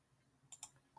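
Two quick, faint plastic clicks of graphing calculator buttons being pressed in a quiet room, spaced a fraction of a second apart.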